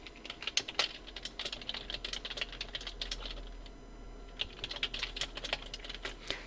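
Fingers tapping out text on a computer keyboard while setting type in Photoshop, rapid irregular bursts of close key clicks with a brief pause midway, no talking.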